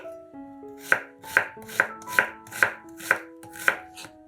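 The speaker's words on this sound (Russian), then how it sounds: "1 луковицу нарезаем кубиками." A knife chops an onion into cubes on a board, seven or eight evenly spaced crisp thuds sounding close and alone with a faint background hum.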